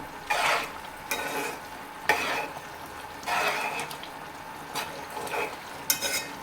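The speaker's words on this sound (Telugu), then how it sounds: "మళ్ళీ ఒకసారి అయితే కలుపుకుందాం ఇంకా మంచిగా కలుపుకోవాలి కొత్తిమీర వేసిన తర్వాత" Okra curry with fresh coriander being stirred in a pan, a spoon scraping and clinking in bursts every second or so over a steady low sizzle, close and moderately loud, with no one talking.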